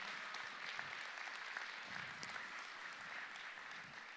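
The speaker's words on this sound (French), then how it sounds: "Je sais que vous applaudissez avec un peu d'inquiétude" A church congregation claps steadily through a Sunday service gathering. The applause is soft and distant, a sustained wash with scattered individual claps and a faint murmur of voices beneath.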